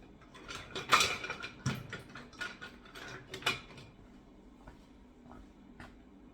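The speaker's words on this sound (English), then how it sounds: "we're gonna whisk it together" A whisk clatters and scrapes through flour, baking soda and salt in a bowl in quick, uneven bursts, loud at first and then fading to lighter taps.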